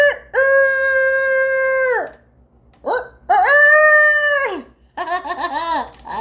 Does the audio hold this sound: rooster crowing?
yes